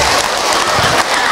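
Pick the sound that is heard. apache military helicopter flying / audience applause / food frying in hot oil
audience applause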